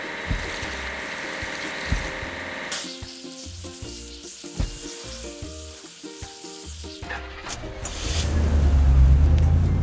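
A cartoon truck is washed with water in a game, a hissing spray of water over tinkly background music with soft clicks, the rushing growing louder toward the end.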